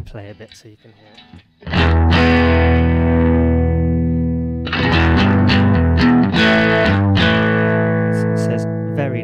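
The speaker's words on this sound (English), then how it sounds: "It's like a nice tape overdriven saturation." Overdriven electric guitar through tape saturation overdrive, warm saturated distortion, sustained chords and notes ringing loud and close.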